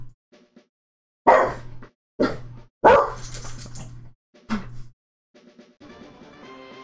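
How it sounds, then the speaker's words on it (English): Dogs barking excitedly indoors, with four or five loud, close bursts of barks separated by short pauses, then fainter whimpers and yips at the end. "The dogs just went ape shit when my wife got home."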